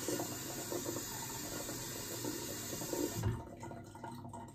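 Water runs steadily as ammonia-free dye is rinsed out of hair, a close, hissing flow that cuts off abruptly after about three seconds, leaving quieter dripping and splashing.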